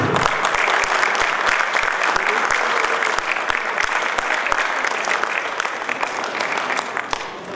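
Audience applause after a theatre play at a drama festival in Ranchi: dense, steady clapping from a full hall that runs the whole stretch, loud and close, thinning slightly toward the end.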